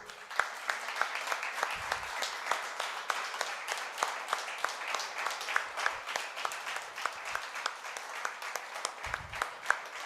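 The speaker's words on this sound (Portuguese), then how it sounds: "Você pode aplaudir ao nosso Senhor?" A church congregation claps for the Lord, a fairly quiet, somewhat distant spread of applause with sharp individual claps standing out, continuing steadily throughout.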